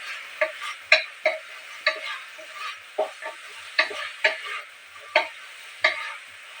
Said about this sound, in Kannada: ಈಗ ನೋಡಿ ಇದು ಫ್ರೈ ಆಗ್ತಾ ಇದೆ